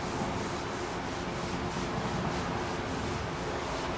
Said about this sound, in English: Give them a light rubbing.